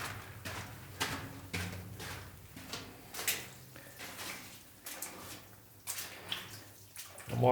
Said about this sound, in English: I'm walking slow because I just don't want to splash it up too high.